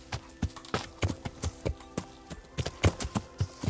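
Horse hooves clip-clopping at a steady riding pace in Kingdom Come: Deliverance, a string of distinct, close hoofbeats in an uneven rhythm with no talk.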